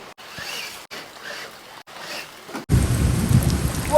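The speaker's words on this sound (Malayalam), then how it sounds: "നല്ല ഇടിവെട്ടലുണ്ട്" Heavy rain pours down loudly with rumbling thunder, preceded by a few seconds of quieter rain broken by brief gaps, during an RC car ride in the rain.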